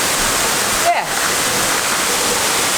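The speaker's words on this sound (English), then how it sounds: "Oh well. Closer to the waterfall." Waterfall at Jurong Bird Park in Singapore, a steady broad rushing roar of falling water heard up close, with a brief faint thump near the start and no talk.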